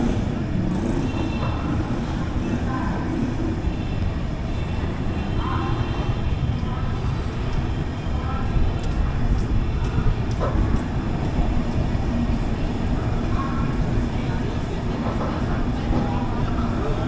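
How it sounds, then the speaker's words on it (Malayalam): The Karnataka Express (KSR Bengaluru–New Delhi) rumbles through a railway station, a continuous heavy low-pitched roar with occasional metallic clanks and faint voices beneath it. "കർണാടക എക്സ്പ്രസ് ആണത്. KSR ബംഗളൂരു ന്യൂഡൽഹി."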